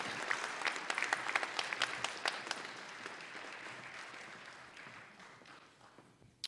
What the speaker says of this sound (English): Give both teams another round of applause.